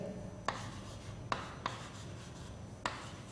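Chalk or pen writing during a math lecture on group theory: a few sharp taps and short scratchy strokes, spaced irregularly and close by, with no talking.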